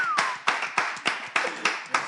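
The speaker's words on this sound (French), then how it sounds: "Est-ce qu'on peut applaudir nos chers Andy d'abord?" Audience clapping for Andy, heard as about seven sharp, evenly spaced claps in a steady rhythm, close and fairly clean, with a faint tone at the start.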